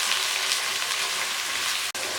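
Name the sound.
tinday (apple gourd) and green chilies frying in a pan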